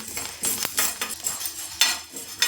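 Jowar grains dry-roasting in a pan while being stirred, a series of rattling metallic scrapes and grainy shuffles in irregular strokes, close and moderately loud, no voices.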